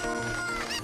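A chicken in a Zelda video game gives a brief, close cluck, a short burst of clucking sounds.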